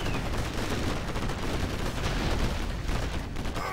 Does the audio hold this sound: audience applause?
no